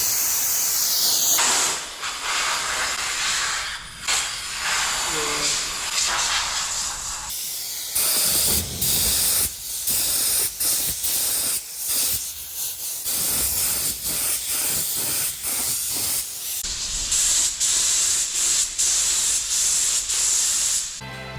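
A spray gun painting a JCB forklift, loud close hissing bursts that run long at first, then break into many short on-off sprays with brief gaps, with no talking.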